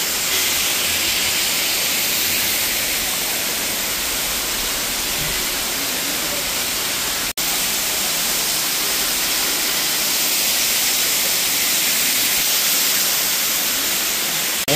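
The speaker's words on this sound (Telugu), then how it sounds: "స్వామి వాటర్ ఫాల్ కిందకు వచ్చాను" Valanjanagam waterfall beside a bridge, heard up close as a continuous loud broadband rush of falling water, steady and unbroken with no voices.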